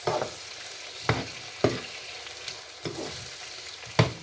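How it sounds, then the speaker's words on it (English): Red peppers and tomato fry in a pan while being stirred: a steady close sizzle broken by about six sharp scrapes and knocks of the spoon at irregular intervals. "do the stirring not to get burnt."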